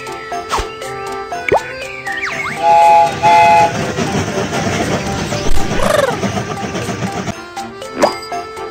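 Game train sounds from Baby Panda's Train, a children's train-building game, with rolling rail clatter, short toots and bright chimes layered over cheerful game music, fairly loud and continuous throughout.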